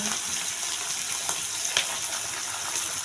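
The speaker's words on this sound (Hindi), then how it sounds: "तो इन दोनों चीज़ों को पहले तो मैं भून लेती हूँ।" Finely chopped onion and green chillies sizzle in hot oil, a loud, steady crackling hiss throughout with a few faint stirring knocks.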